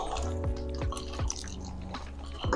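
Water gurgles and splashes steadily as it is poured into the soil of a potted Alocasia Golden Bone plant, with rapid close-up trickling and dripping and no voices.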